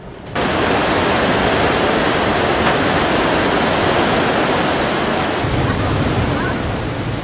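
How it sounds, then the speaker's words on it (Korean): Iguazu Falls in Argentina roars, a dense, constant rumble of crashing water that fills the space, loud and close after a brief quiet start. "제일 먼저 저를 압도하는 건 천지가 흔들리듯 울리는 물소리입니다."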